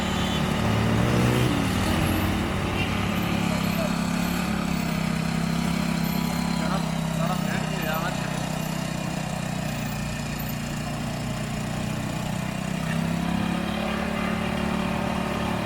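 A motorcycle engine running steadily near a marathon race route in Khuiratta, Azad Kashmir, a continuous loud drone that holds constant with no breaks.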